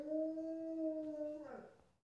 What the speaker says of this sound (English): He's half wolf and he can't even howl.